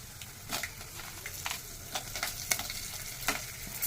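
Peanuts, chana dal, dried red chillies and green chillies frying in hot oil as a base for mango rice, a steady close sizzle broken by repeated sharp crackles and scraping stirs, with no voices.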